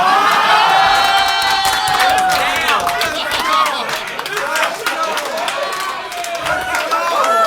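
Comedy club audience at a roast show clapping and whooping, loud crowd applause with cheers and shouts over it, laughter and voices blending in throughout.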